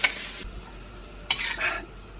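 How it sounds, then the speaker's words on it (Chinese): Hunan chili peppers and pork are stir-fried in a wok in a motorhome kitchen, with two bursts of loud sizzling and scraping stir strokes separated by a quieter hiss of frying. "那个辣椒久炒一会儿，它就没那么辣"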